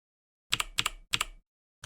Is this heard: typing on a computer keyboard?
yes